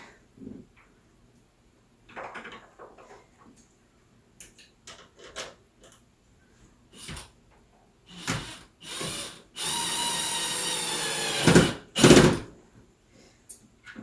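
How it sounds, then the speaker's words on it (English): A screw is driven into a window blind bracket held against an edge: a whirring burst of a couple of seconds, then shorter spurts close by, amid scattered clicks, taps and handling knocks. "start screwing the nails in there"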